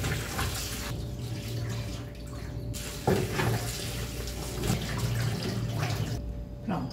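Cabbage being washed under a running kitchen tap, a steady splashing stream of water with brief handling noises and shifts in the flow, no voices.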